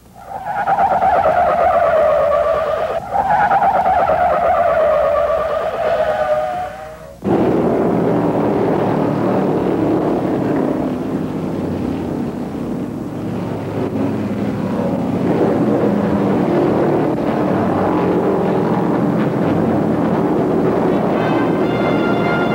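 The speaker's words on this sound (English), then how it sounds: "With an accident on the track, many of the top cars dive down pit row for fuel and tires" 1971 NASCAR stock cars diving down pit road for fuel and tires after an accident at a superspeedway: a loud, close engine whine swells and falls as a car passes, then gives way to a sustained, heavy roar of several engines.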